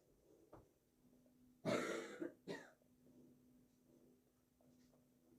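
A single close, harsh cough burst followed by a shorter second cough, then quiet room tone with a faint hum.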